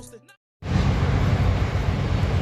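Loud, steady broadband machinery roar from a factory next door starts abruptly after a brief bit of background music and a pause, droning continuously.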